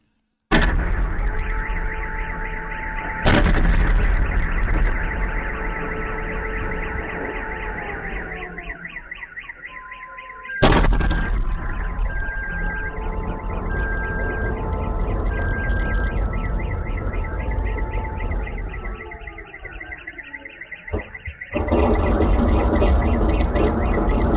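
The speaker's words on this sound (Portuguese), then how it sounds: "Só dá para ouvir o barulho e o alarme de ataque aéreo" An air raid alarm wails loudly and continuously in Ukraine, a steady warbling tone, broken twice by sudden heavy explosion booms.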